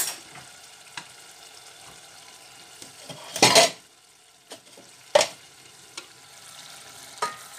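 Homemade pili pili sauce with coarse salt cooking gently in a pan, soft steady sizzling broken by a few sharp scrapes and knocks of a utensil stirring against the pan.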